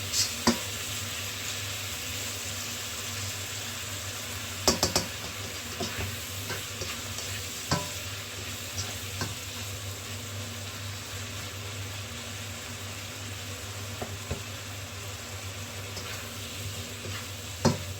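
Shrimp stir-fry in roasted chili paste sizzles steadily in a pan, with occasional scrapes and taps of a utensil against the metal, close and even throughout without any talking.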